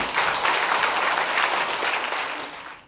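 Applause from the audience at the Cham Dokdo Green Management Award ceremony in the National Assembly Constitution Memorial Hall, a dense, steady roar of clapping for about three seconds that fades slightly at the end.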